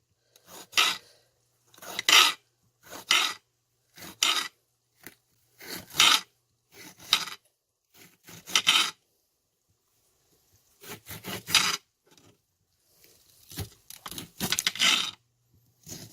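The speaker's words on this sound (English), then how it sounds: "cut the end off and just cut like jalapeno slices" A knife slicing a jalapeno into rounds on a board, about a dozen short crisp cutting strokes in an uneven rhythm with brief quiet gaps between them, close up and with no speech.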